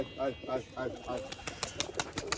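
Pigeons at a pigeon farm flutter and shuffle nearby, giving soft wing flaps and faint coos, while a person talks over the first half.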